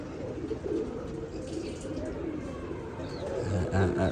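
Pigeons coo softly among other birds as someone talks nearby. The low, burbling coos rise toward the end, under and between his speech.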